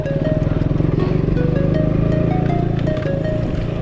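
Motorcycles, including an Enfield 350, Duke 200 and Pulsar 150, ride side by side on a mountain road from Chame to Manang, their engines a loud, steady, close throbbing drone.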